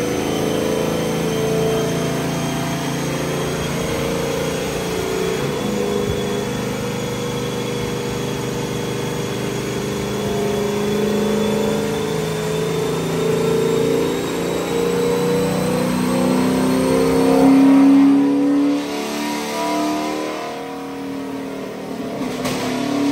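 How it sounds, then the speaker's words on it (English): 2022 Chevrolet Camaro SS revving on a dyno, a loud, steady engine drone with rising and falling pitch, swelling to a stronger rev near the end before easing off. "Did a little test on the dyno, make sure it's strapped down"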